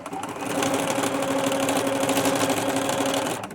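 A sewing machine runs steadily, stitching a folded edge along the presser foot on an upcycled boho pixie skirt, a close, even mechanical whir that starts and stops within a few seconds.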